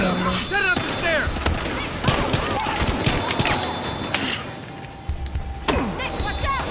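Gunfire in the video game Battlefield Hardline: sharp shots crack out irregularly over a busy, noisy game mix, fairly close and loud throughout the short stretch.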